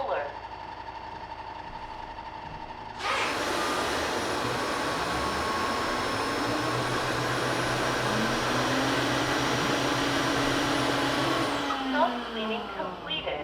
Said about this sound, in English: Soaking the roller.